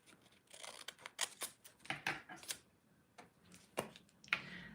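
Scissors snip close by as a box shape is scored and cut out of journal paper. Quick, irregular cutting strokes come in small bursts in a quiet room, with faint talk in the background.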